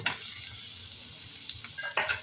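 Onions frying in hot oil in a pan, a steady bright sizzle with a couple of quick stirring scrapes and clinks near the end, close and alone.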